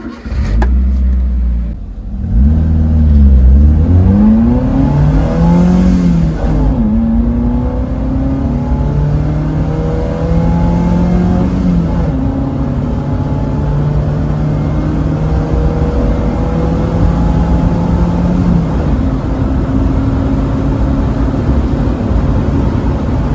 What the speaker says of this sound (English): let's see how it does through the gears on the tarmac going slightly uphill